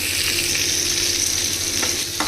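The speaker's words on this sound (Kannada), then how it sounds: "ಇವಾಗ ಒಗ್ಗರಣೆನ ಮಾಡ್ತೀನಿ ನಾನು." Onions, peanuts, chana dal, urad dal and mustard seeds sizzle steadily in hot oil for a tempering, a close, continuous frying hiss with faint stirring and no voices.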